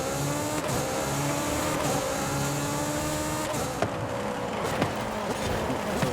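A Mercedes races in Forza Horizon 5, its engine droning steadily with sustained tonal harmonics and shifting pitch, a few sharp knocks or bumps toward the end, close and continuous throughout.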